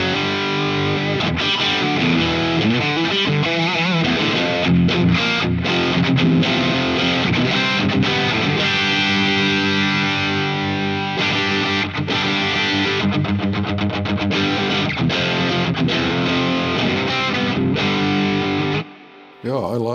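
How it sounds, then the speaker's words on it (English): Electric guitar played through a Red Snapper pedal set for warm distortion, a loud, sustained overdriven tone with chords and riffs filling the whole stretch, briefly dropping out near the end. "even better with the red snapper for, let's say, kind of warm distortion sound."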